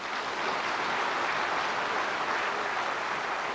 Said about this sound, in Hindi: अब मेरी बात पर जोर से ताली बजाना